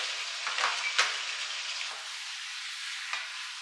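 Beef and bitter melon stir-fry in a wok as rice wine goes in, a loud, dense sizzle with a few quick scraping and tossing accents close by.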